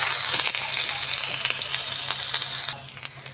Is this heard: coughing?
no